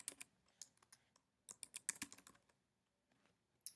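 Quiet, close typing on a computer keyboard: clusters of quick key clicks with short pauses, a brief final burst at the end.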